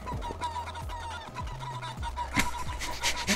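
Clucking chicken sounds from the video game Guacamelee!, a rapid run of short squawks and clucks over game music and effects, with loud bursts toward the end.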